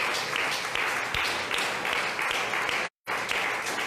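A church congregation applauds during a Sunday morning service. The applause is a dense, steady wash of many hands clapping, with one brief full dropout near the end.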